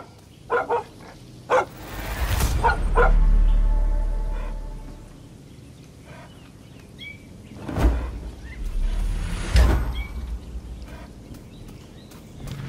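Boom Boom, the dachshund companion in Far Cry 6, gives a few sharp barks and yips, some clustered early and a couple more later, close and fairly loud over a low ambient game rumble.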